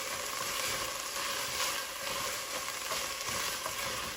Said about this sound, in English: So I'm going to go ahead and add these in. We're just going to toss them around